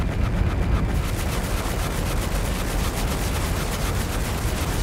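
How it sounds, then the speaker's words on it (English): Heavy artillery fire in a naval battle scene, a dense continuous roar of rapid booming blasts and rumbling explosions, loud and relentless throughout with no voices. "Heavy artillery it is."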